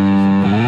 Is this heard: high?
yes